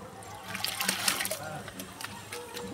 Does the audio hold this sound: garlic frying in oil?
no